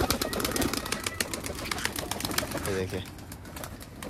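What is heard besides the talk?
pigeons in a loft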